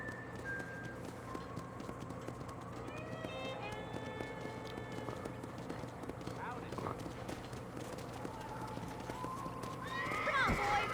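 Horses at a corral in the video game Red Dead Redemption, with steady clip-clopping hooves over low outdoor ambience and a sharp whinny near the end, moderately faint.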